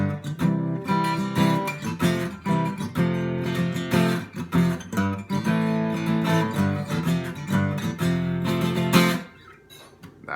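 A guitar strums through the chord progression of a song, steady rhythmic chords ringing close and clear, then stopping abruptly near the end and leaving a brief fading tail.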